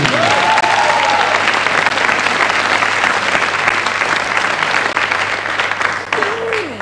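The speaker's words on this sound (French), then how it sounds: "On applaudit Cyril Vigil" Loud, sustained applause from a theater audience for a performer in a comedy sketch show, dense clapping filling the whole stretch, with a brief voice near the start and again at the end.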